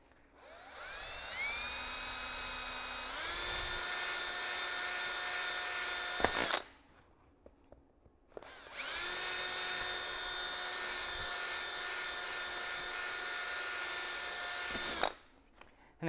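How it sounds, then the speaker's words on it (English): A power drill whines up to speed and grinds steadily in two long bursts with a pause between, close and loud, drilling the heads off metal rivets to remove latches. "you're just kind of drilling the heads off of the rivets so that these latches will pop off"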